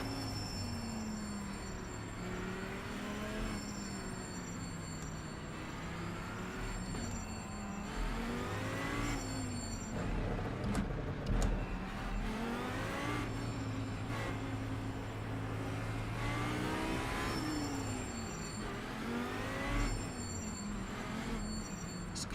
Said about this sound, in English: It's a completely new brake noise as well. Brakes are cold and making a squeaky sound.